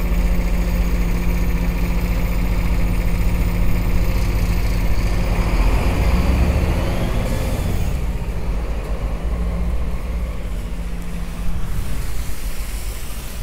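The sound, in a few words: truck carrying tar, engine running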